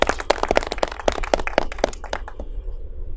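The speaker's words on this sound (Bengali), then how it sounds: "ভাইয়ের লেগে সবাই হাততালি দিয়ে ভাইয়ের ওয়েলকাম জানাই।" A small group claps to welcome a returning brother, about a dozen sharp, distinct claps at an uneven pace, close and clear, thinning out and fading into quiet room tone by the end.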